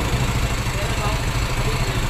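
A Yamaha Mio MXI 125 scooter engine, repaired after running smoky and noisy, idles with a steady, even low-pitched putter close by, while someone talks over it.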